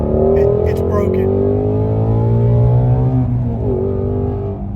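A 2024 C8 Corvette Z06's flat-plane-crank V8 revs hard and climbs in pitch, then shifts smoothly through a Tremec gearbox. The engine is loud and close, and the drone holds steady under excited cabin talk.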